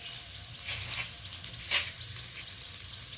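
Oil sizzles and crackles in a frying pan beside browned sweet potato, a soft steady hiss with a few brighter spits and pops scattered through it.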